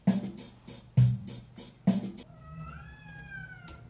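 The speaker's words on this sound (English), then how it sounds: "Just my cat meowing in the background, and it's tough." A cat meows repeatedly in the background, three clear cries at a regular pace followed by a thinner, higher drawn-out whine, with a steady rhythmic beat from a song running underneath.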